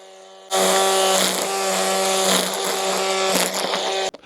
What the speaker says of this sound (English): to feed more string, gently bump it on the grass